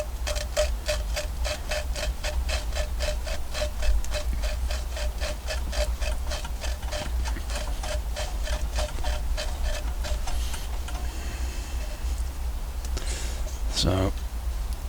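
Two surfaces rubbed back and forth with rough grinding paste to form a seal, a steady rhythmic gritty scraping at close range, repeating evenly before slowing near the end, with speech over it.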